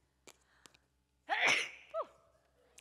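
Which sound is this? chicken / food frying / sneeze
sneeze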